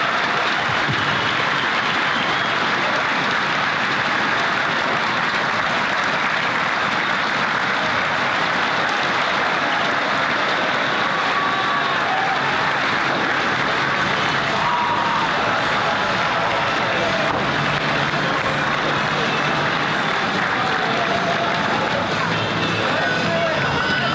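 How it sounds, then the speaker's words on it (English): A crowd at a school Turkey Bowl pep rally claps and cheers steadily, sustained applause with scattered whoops and a murmur of voices filling the space. "let's give a big round of applause for Mr. Keeney"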